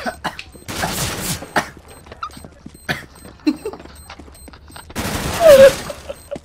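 Video game gunfire comes in short bursts of loud cracks mixed with sparse single shots, and a voice briefly speaks between them.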